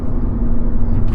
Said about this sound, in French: il y a un big truck qui nous dépasse. C'est turbo diesel.